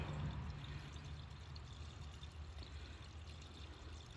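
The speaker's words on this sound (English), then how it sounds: "my drain pan's gonna fill up here in a second" Engine oil from a 1974 Alfa Romeo Spider pours out steadily into a drain pan, a continuous close liquid stream that holds at a fairly even level throughout.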